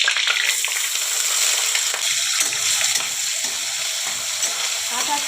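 Raw chickpeas frying in hot mustard oil with bay leaf and whole cumin, a steady close sizzle with occasional stirring scrapes throughout, no voices.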